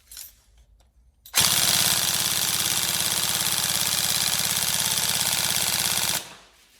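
An upgraded Tokyo Marui 416 Delta NGRS airsoft electric gun with a 35k motor and a Gate Titan trigger unit fires full auto: one loud, steady, fast buzzing burst of about five seconds after a quiet start, then it stops abruptly.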